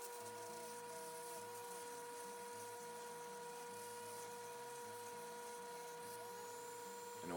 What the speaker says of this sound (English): With the buffing wheel, I gently go over the armature